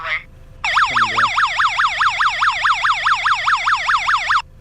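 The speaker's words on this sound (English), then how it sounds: "Attention, please. Carbon monoxide gas leaking." Carbon monoxide alarm sounding a loud, rapidly sweeping electronic wail, repeating steadily for several seconds after a short lead-in, close and shrill; a recorded warning voice is faint at the start.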